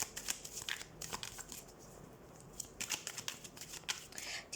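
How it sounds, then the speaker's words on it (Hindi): Tarot cards being shuffled by hand, a rapid run of papery riffles and flicks in quick bursts with short pauses between, fairly close and moderately quiet, with no talking. "तो सबसे पहले हम कार्ड शफल कर लेते हैं।"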